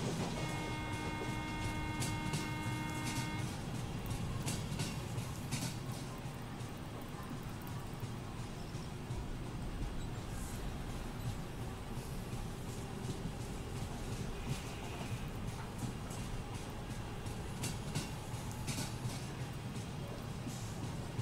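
A Mumbai suburban local train runs on rails with a steady, dense rumble and rhythmic clatter heard from inside, with brief tonal squeals early on.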